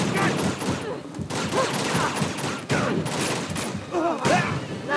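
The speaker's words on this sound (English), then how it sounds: "Someone's shooting us." Enemy gunfire in the action game Uncharted: Among Thieves, rapid overlapping shots in loud bursts that run through the whole stretch, with a voice speaking at moments over the din.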